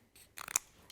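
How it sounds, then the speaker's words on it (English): Scissors snip off the edge of a die-cut rainbow card piece in a card-making project, a short cluster of quiet crisp cuts close up with no talk. "I'm just going to trim off the edge there."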